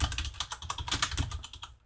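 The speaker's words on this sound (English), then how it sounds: "it's achieved by typing composer init" Quick, fairly even keystrokes clatter on a computer keyboard, a dozen or so crisp clicks close up, stopping abruptly near the end with no voices.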